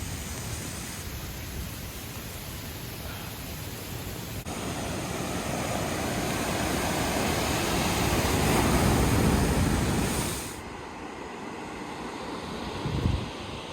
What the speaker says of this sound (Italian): Alle nostre spalle c'è il bellissimo oceano.